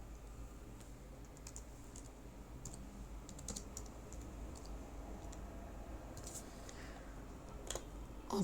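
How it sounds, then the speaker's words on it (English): Fingers tap away at a computer keyboard in a quick, uneven patter of close, crisp clicks, with faint background hiss and no talking. "From here I'm gonna type"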